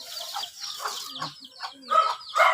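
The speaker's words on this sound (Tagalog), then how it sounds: "Manok-manok." Chickens clucking and calling in short, irregular bursts, fairly close, with the sounds growing louder toward the end; a few faint voices may be mixed in.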